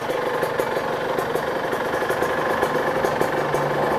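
A Kawasaki KR150 motorcycle engine runs at a steady idle, a continuous close rattling drone with a slight rhythmic knock and no talking.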